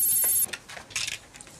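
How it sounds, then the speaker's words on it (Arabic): An office telephone in an Egyptian comedy scene rings with a shrill electronic trill that stops abruptly, followed by a few faint clicks and knocks, no talking. "محدش بيرد على التليفون ليه؟"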